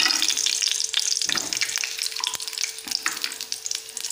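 Ginger and garlic frying in a tablespoon of oil, the unpeeled garlic going in whole, give a steady close sizzle with scattered crackles and occasional clinks and scrapes of a utensil, no voices.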